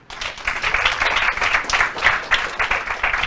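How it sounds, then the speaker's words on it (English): Audience applause at a coding academy presentation, a brisk burst of many hands clapping that swells in quickly and holds at a lively, fairly close level with uneven individual claps. "Let's have a round of applause for Frank"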